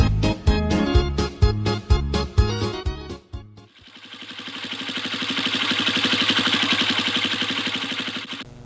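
Motorcycle engine idling with a steady, even chugging pulse that follows a run of loud rhythmic beats, the engine sound close and alone.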